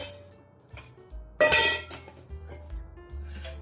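A spoon scrapes and clinks against a metal pressure cooker while ghee is added for khichdi in a home kitchen: a few light taps, then a brighter metallic clatter midway, and soft knocks after.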